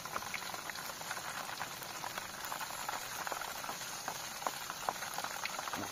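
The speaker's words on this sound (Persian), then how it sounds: "خدا واسه اولین بارم دارم ماهی سرخ می‌کنم" Fish fries in hot oil in a pan, a steady crackling sizzle with sharp pops scattered throughout, close and fairly quiet, with no talking.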